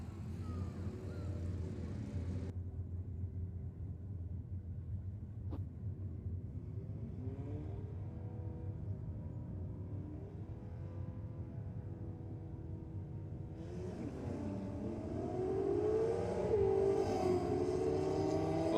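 A Nissan Pulsar does a burnout at a drag strip, spinning its rear tyres: a steady, loud engine roar that holds for most of the run, then climbs in pitch and grows louder near the end, with no talk.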